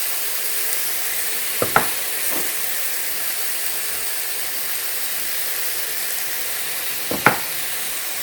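Spinach sizzling in a pan, a steady close hiss of frying that runs throughout, broken by a couple of brief knocks or clinks.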